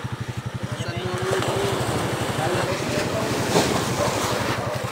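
Water slaps against a small boat at sea while its engine putters in a fast, regular chug. Wind and splashing wash over the steady beat, and a voice speaks briefly amid the noise.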